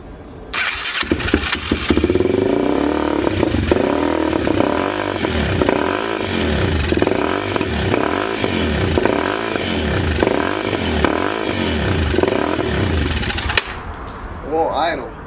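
A 2004 Yamaha TTR 250 motorcycle cranks and catches, then runs unsteadily with rhythmic surging pulses and clatter for about twelve seconds before cutting out, loud and close, with voices in the background.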